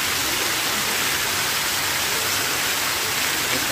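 A resort fountain at Chanchal Resort in Dinajpur pours into a large pond, producing a constant, even rush of falling water that fills the whole moment without pause or voices.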